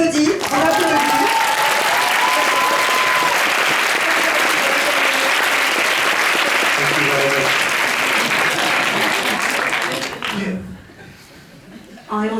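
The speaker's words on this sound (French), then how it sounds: "Oui, Reda, on applaudit, on applaudit." A theater audience at a film Q&A applauds actor Reda Kateb, loud sustained clapping with scattered chuckles and voices over it, fading out after about ten seconds.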